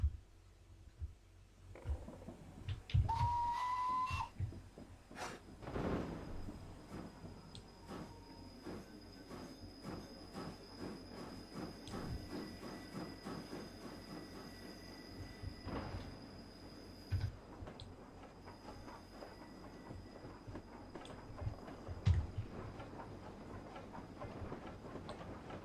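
A steam train engine in a video game rumbles steadily along the rails with a soft clatter of wheels and a brief high squeal early on, all fairly quiet.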